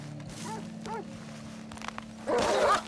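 A wild dog barking in the video game Red Dead Redemption 2, a few short yelping barks followed by a louder snarling burst, over a low steady game drone.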